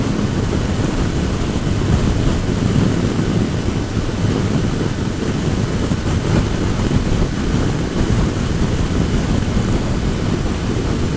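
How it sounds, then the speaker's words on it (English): Strong wind blowing outdoors on a windy day, a loud, constant roaring buffet across the microphone with no breaks or other clear sounds. "And it's pretty windy down here in fact today."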